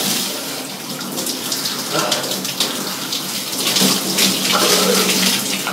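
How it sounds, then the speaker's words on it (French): A cold shower runs steadily in an evening bathroom, water spraying and splashing continuously at close range with slight shifts as it hits the body. "petite douche froide, le soir avant d'aller au lit."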